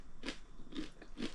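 Three crisp, close bites into crusty homemade whole wheat sourdough bread, each a sharp crunch with crackling crust, evenly spaced about half a second apart.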